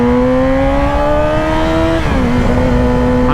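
A Yamaha R6 sport motorcycle accelerates hard and loud, its steady engine whine climbing before a gear change drops the pitch, then pulling on.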